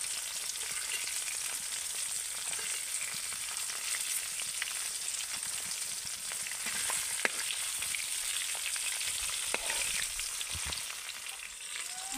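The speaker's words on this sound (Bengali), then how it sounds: "তেল গরম হয়ে গেছে, এবার আমি মাছগুলোকে ভেজে নেব।" Koi fish fry in hot oil with a steady, dense sizzle and crackle that holds evenly throughout, close and unbroken, with no voices.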